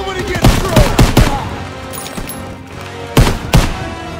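Gunfire and machine-gun bursts in a Call of Duty: WWII D-Day battle, loud close sharp shots in clustered volleys at the start and two more heavy bangs later, over a constant roar of battle noise.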